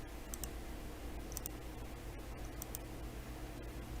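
A computer mouse clicks a few times while a spreadsheet is formatted in Excel, giving sparse, faint, sharp clicks over a steady low background hum.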